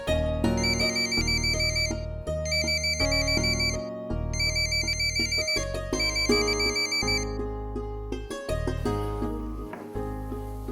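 A mobile phone plays a loud melodic ringtone in a home, its tune repeating in steady phrases for about ten seconds with no one speaking over it.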